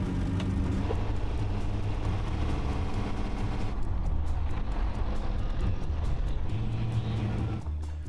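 A tuned, fuel-injected 1957 car engine running and driving, a loud close continuous rumble with rising revs and a steady throaty drone that eases off at the end, without speech.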